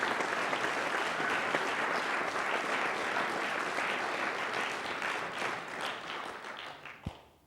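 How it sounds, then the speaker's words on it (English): An audience applauds at a National CyberWatch event, a dense, even patter of many hands that holds steady and then tapers away at the end. "Please give them a round of applause."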